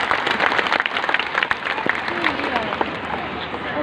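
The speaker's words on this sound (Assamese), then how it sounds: "গতিকে এটা হাত চাপৰি আপোনালোকে" An audience at a talk applauds in a dense, continuous patter of many hands, with voices calling out over the clapping.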